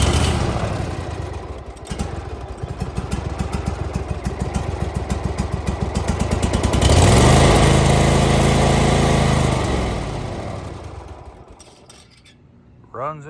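A Kohler small engine runs on choke with a rough, throbbing mechanical drone that swells in loudness midway, then sags and fades out as it dies near the end.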